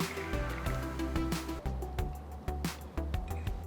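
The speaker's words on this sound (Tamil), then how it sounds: "இப்போ மோரை ஊற்றிக்கலாம்" Buttermilk is poured into a pan holding a hot spice tempering, giving a continuous close liquid gurgle and splash with small drips and soft squishy pulses throughout.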